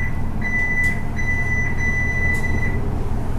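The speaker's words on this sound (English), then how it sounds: "Sounds like a microwave beep." Electronic chime from a high-speed elevator at the Wyndham New Yorker Hotel in New York, a steady microwave-like beep tone sounding twice in a row, clear over a constant low mechanical hum of the elevator.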